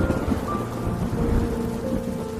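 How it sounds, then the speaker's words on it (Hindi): Heavy rain pours in a steady, dense roar while low rumbling swells underneath, suggesting thunder in a windy storm, loud and continuous with no voices. "अचानक तेज हवा चलने लगी। फिर जोर से बारिश होने लगी।"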